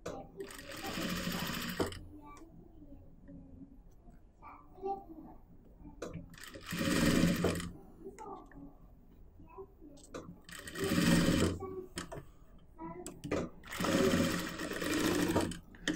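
A sewing machine stitches the collar of a front-open kurti, running in several bursts of rapid, even chatter with quiet pauses in between, while someone talks softly throughout.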